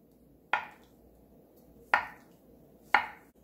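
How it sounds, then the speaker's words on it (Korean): A knife chops through half a block of tofu on a cutting board while preparing a clear pollock soup, giving three crisp, close thuds spaced about a second apart in a quiet kitchen. "두부 반모 썰어줄게요"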